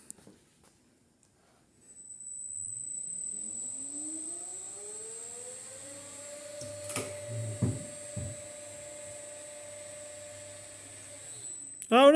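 An electric winch runs to pull apart a wooden tower, its motor whine rising steadily in pitch and then holding a sustained drone, with a few knocks and a sharp loud burst at the very end.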